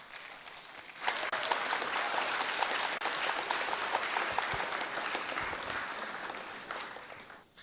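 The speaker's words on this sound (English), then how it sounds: "If you don't give Mr. Jim Ovia the applause of recognition that he deserves" An audience bursts into sustained applause honouring banker Jim Ovia at a Delta State Security Trust Fund event, dense clapping swelling after a second and holding steady before tapering near the end.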